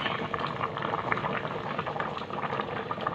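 A pot of water rolls at a boil for pasta over medium heat, giving a close, steady bubbling and popping that continues evenly throughout with no talking.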